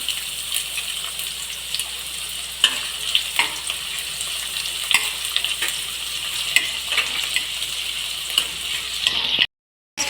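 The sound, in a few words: chopped onion frying with dried red chillies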